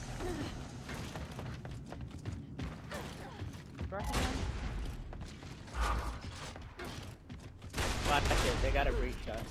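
Breachshot rifle fire from Gears of War: Judgment, heard as a few heavy shots spaced a couple of seconds apart over a busy bed of game noise, mechanical clatter and chatter.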